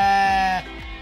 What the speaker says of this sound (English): I talk to the sheep quite regularly. And they respond.